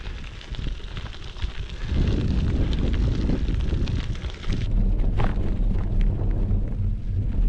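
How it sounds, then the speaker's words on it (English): Strong wind gusting on the Katy Trail in Missouri, buffeting the microphone with a loud, continuous roar that swells after a couple of seconds and stays heavy throughout. "My friend, the wind."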